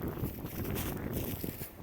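Gusty wind rumbles and buffets the microphone, producing a continuous rough roar with no voices.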